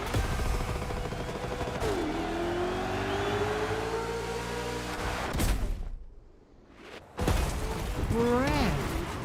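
A drag car engine in the video game The Crew Motorfest revs up in a long rising pull, cuts out briefly, then roars again, loud and close, with a voice talking over it.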